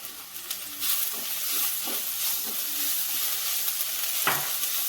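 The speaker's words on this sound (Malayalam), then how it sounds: "കുറച്ച് കറിവേപ്പില ഇട്ട് കൊടുക്കാം." Curry leaves crackle and sizzle in hot oil with onions in a pan, a steady close frying hiss broken by brief stirring scrapes and sputters, with no talking.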